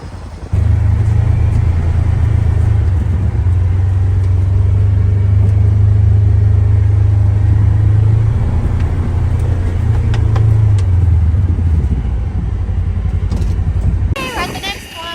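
A Ranger utility vehicle driving out across a farm field, its engine a loud, close, steady low rumble for most of the stretch before easing off near the end.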